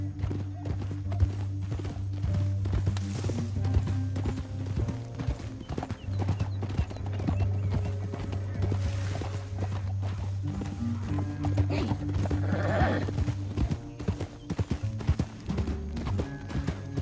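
Horse hooves clip-clop in a steady rhythm in Red Dead Redemption 2 as riders move through a canyon, with a horse whinnying and snorting over a low droning musical score.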